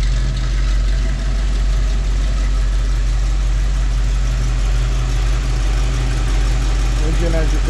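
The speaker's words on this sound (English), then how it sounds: "Engine, as you can hear it, running very smooth." A restored 1957 Chevrolet Corvette engine idles smoothly, a steady deep rumble held close and loud throughout, with light background noise over it.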